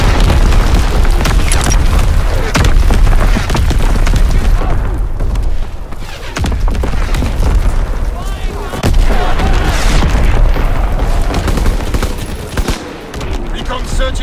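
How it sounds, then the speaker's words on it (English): An incoming artillery barrage in Call of Duty WW2 on the Gibraltar map, with loud, continuous booming explosions rolling one into the next, heavy low rumble throughout and scattered gunfire beneath. "Incoming enemy artillery! Get to cover!"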